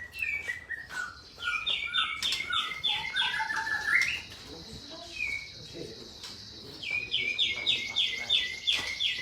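A young white-rumped shama (murai batu) sings in a series of clear, bright whistled phrases and quick rising and falling chirps, close and prominent over a quiet background, with a long sustained high note in the middle.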